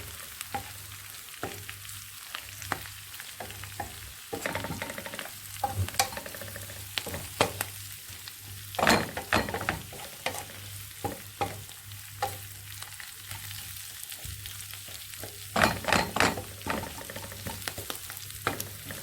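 Spinach wilts in a hot pan for a spinach and chicken quiche filling, giving a constant soft sizzle broken by irregular crackles and stirring scrapes, with no voices.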